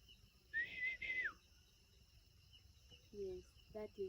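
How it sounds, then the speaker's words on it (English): Snowy-headed robin-chat in forest giving a clear rising-then-flat whistled phrase near the start, followed later by shorter warbling notes, over faint steady insect buzz. "that is a snowy-headed robin chat. It imitates every bird in the forest"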